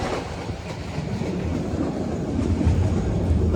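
A passenger train rolls past near Satadhar, a loud, steady rumble with rhythmic clickety-clack of wheels on rails building slightly toward the end, no voices.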